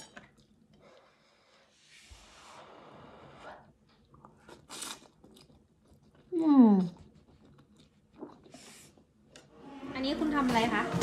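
Someone eating food, with soft, close crunching and chewing bites spread out between quiet gaps, and someone talking near the end.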